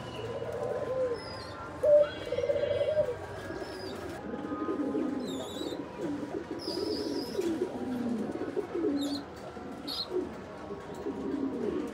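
Pigeons cooing nearby in soft, low, rolling phrases, with a few brief higher chirps from other birds over a quiet outdoor background.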